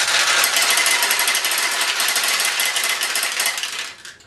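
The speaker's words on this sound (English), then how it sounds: "Sometimes there's so many balls here that the weight of them causes them to jam and not roll in like I showed you earlier." Steel pachinko balls clatter and rattle continuously inside a Nishijin pachinko machine, a dense, loud metallic rush that holds steady for several seconds before tapering off near the end.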